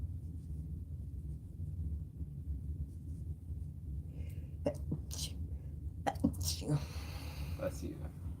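A single sharp sneeze bursts out after a stretch of quiet room tone, followed by a soft voice speaking nearby.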